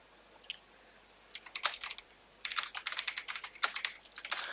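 Typing on a computer keyboard in MS Word, starting with a few isolated keystrokes and building into rapid clusters of clicks, near and clear with no voices.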